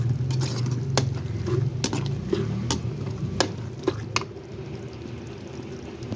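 Curry boils in a pot with a low, steady bubbling, broken by occasional sharp clicks and taps close by.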